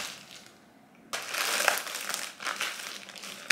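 Someone in a quiet room opens a plastic package of practice exams. After a short quiet start, loud crinkling and crumpling of plastic wrap runs close by to the end.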